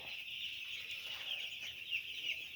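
Chickens on a poultry farm, with a steady high chirping and clucking flock sound that stays fairly faint and continuous throughout, no voices over it.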